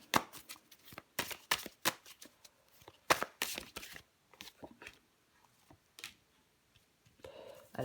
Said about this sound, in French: Allez, je prends encore une carte.